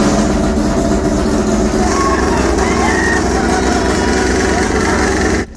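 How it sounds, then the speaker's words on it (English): A race car engine runs continuously during testing at Silverstone, a loud steady drone with rough vibration that cuts off abruptly at the end. "For Joe to get the engine actually working on the first day was massive"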